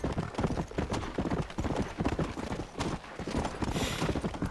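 Horse hooves clip-clop in a quick, steady rhythm in the video game Red Dead Redemption: Undead Nightmare, moderately close and continuous, with a faint whoosh of background ambience.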